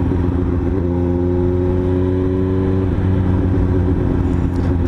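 Suzuki GSX-S750 motorcycle cruising on a highway, with a steady mid-pitched engine hum and wind rush, a held gear tone that drops at a shift partway through, continuous and close.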